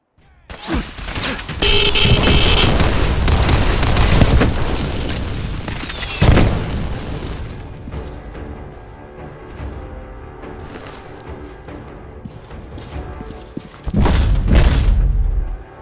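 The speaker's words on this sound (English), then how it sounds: "Grenade!" Grenade explosion in the Fallout 4 video game, a loud booming blast with sustained rumbling debris that fades over several seconds, then a second heavy burst near the end.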